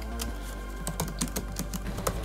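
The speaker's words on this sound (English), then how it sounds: "The keyboard is nice and clicky and has good travel." Keys clatter on an M1 MacBook Pro keyboard in a steady run of crisp, clicky taps at an irregular typing rhythm, close and clear over a low background hum, with no talking.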